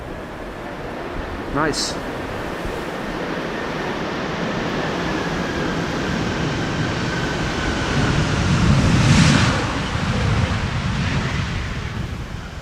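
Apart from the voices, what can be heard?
aircraft thrust reversers on landing at Schiphol Airport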